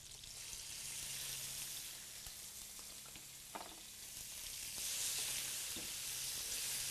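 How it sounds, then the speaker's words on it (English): Calf's liver sizzles and crackles steadily in a hot pan, with occasional stirring scrapes and no talking. "You got to hear the food cooking."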